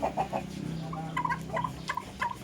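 A Dark Mahogany breeder rooster, about eight months old, gives a few soft, close clucks and low throaty calls in a short burst.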